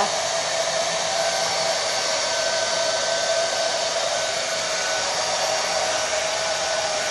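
A hair dryer fitted with a diffuser blows on curly hair, making a steady, loud, unbroken whir with a constant pitch throughout and no voices.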